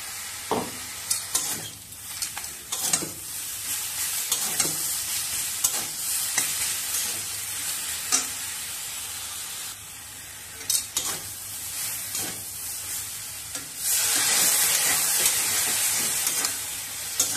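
Onion paste ground with cumin and green chilli frying with pumpkin (ash gourd) stalks in a pan, a steady sizzle with repeated stirring scrapes, growing louder and hissier near the end as a splash of water hits the hot pan.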